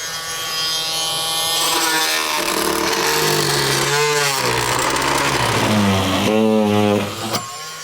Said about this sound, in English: Grab my fine multi-tool. It's just like a vibration cutting tool.